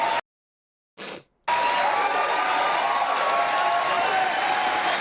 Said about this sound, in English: I have to play the applause because it's contextually